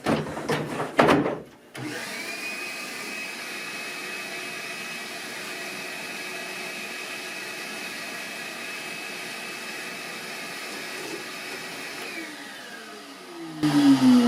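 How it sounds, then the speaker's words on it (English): A vacuum cleaner clearing chips after cutting a saddle slot on a 1938 D18 guitar runs with a steady whine for about ten seconds after a brief clatter, then winds down and shuts off. "vacuum it up, take a look at it"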